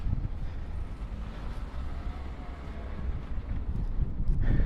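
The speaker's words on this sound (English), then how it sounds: "It is a little bit of wind going on down here, so forgive us if it is plummeting the microphone a little bit." Wind by the bay in Hakodate buffets an unprotected microphone in summer, a low, uneven rumble that swells and fades, rising toward the end, with faint background sounds beneath.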